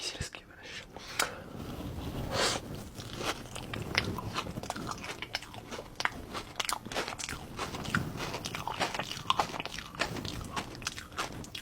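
Repeated crunchy bites into a crisp pistachio pastry, close and crackly, with chewing between bites and soft whispered talk running underneath.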